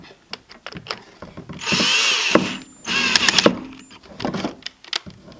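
A power driver set to very low torque works on a 1/16 Traxxas Slash 4x4 VXL RC truck, whirring in two bursts of about a second each amid small clicks and handling noises, close and fairly loud.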